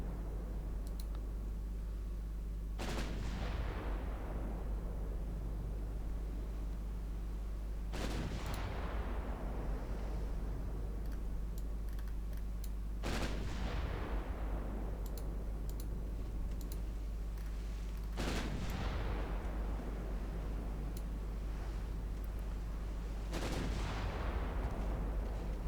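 Naval gunfire from Mark V 10-inch guns in the Ultimate Admiral Dreadnoughts warship game. Five sharp booming shots come at a steady pace about every five seconds, each decaying over a low constant hum with no talking.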